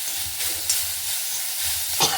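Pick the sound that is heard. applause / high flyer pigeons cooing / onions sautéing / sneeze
onions sautéing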